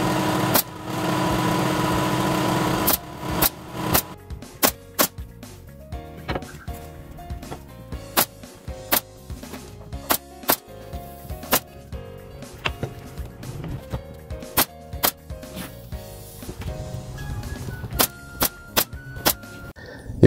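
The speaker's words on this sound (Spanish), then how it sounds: "lo voy a clavar con la pistola de clavos" A nail gun drives nails into a small wooden picture frame, firing sharp, loud single shots at irregular intervals, about a dozen in all, with a low mechanical hum between them and no talk.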